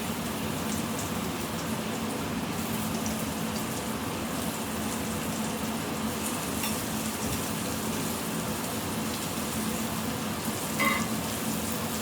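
Egg loaf slices sizzle in melted butter in a skillet, a continuous close crackling hiss with small pops and a brief louder spatter near the end, no voices.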